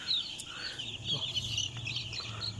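Broiler chicks, some of them black-feathered, peep steadily on a poultry farm, a busy overlapping chorus of high chirps with a low hum beneath.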